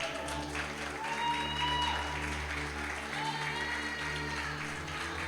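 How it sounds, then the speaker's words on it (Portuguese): A church congregation applauds during a worship service, steady sustained clapping from a large crowd over sustained keyboard tones, with some voices mixed in. "Aplauda Jesus"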